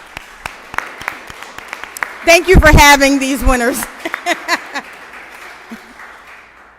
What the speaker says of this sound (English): So let's give your parents a round of applause.